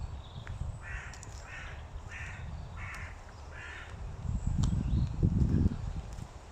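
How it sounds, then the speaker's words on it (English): Crows caw five times in a row in a woodland clearing at Parrot's Drumble nature reserve near Talke Pits, North Staffordshire, moderately distant, followed by a stretch of low rustling. No one speaks. "And as normal, the crows are making the most noise."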